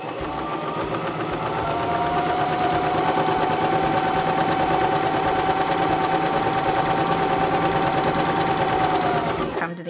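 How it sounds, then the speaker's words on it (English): A Baby Lock Zest sewing machine stitches a pintuck across fabric, a continuous fast rhythmic needle clatter that holds steady for about ten seconds at close range before stopping, with no talk. "we're just going to stitch across the fabric"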